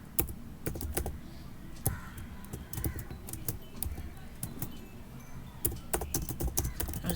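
Rapid keystrokes on a computer keyboard while writing Python code, a steady patter of clicks with a few sharper louder taps, close and clear with no talking over it.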